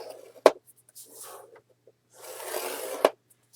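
Paper being scored for a handmade mini album: two sharp close clicks with brief scraping strokes between them, quiet and without talk.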